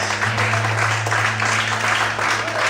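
A church congregation claps together during a worship service, a steady dense wash of applause running throughout with sustained organ or keyboard tones underneath and no clear talking.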